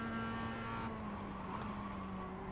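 A race car passes during Nürburgring Nordschleife (Gesamtstrecke) VLN testing in a racing game: a steady engine drone with a sustained tonal whine that shifts slightly in pitch.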